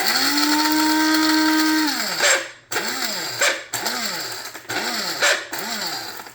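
A Krups grinder pulverizes hand-crumbled eggshells into fine powder, a loud steady motor whine that drops off, then several short repeated bursts of rising and falling revving, close up with no talking.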